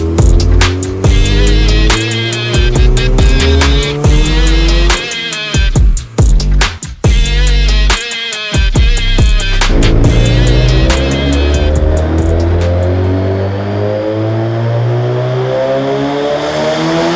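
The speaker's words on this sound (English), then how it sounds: "It's on the dyno. Gonna do a couple of pulls for you guys." Toyota MR2 SW20 engine wound up on a dyno, its loud, close exhaust note climbing steadily through the revs in sweeping pulls, with a brief lift partway through before settling into a lower drone.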